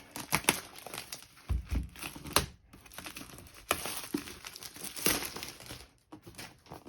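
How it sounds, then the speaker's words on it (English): Paper wrapping is torn and crumpled off an NZXT C650 power supply box in close, busy bursts of crinkling and ripping, with short pauses between handfuls and no talk. "It'll be better to show you guys the box without the paper."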